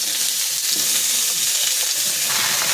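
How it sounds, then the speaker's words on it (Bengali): Turmeric and chili powder frying in a little oil, a steady close sizzle with faint stirring scrapes, continuous throughout without any voices. "এটা সামান্য ভাজতে হবে অল্প তেলের মধ্যে।"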